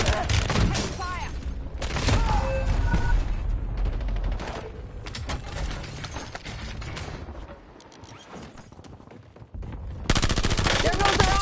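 Rapid bursts of automatic gunfire from a Call of Duty Warzone match, loud and close, coming in dense volleys with short gaps and a sharp renewed barrage near the end.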